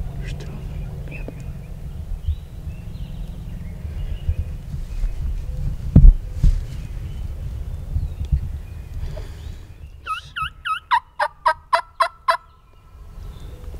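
Wild turkey gobblers gobbling during a spring hunt in New York, a rapid run of several loud, close gobbles near the end, following quieter outdoor ambience with soft murmured talk.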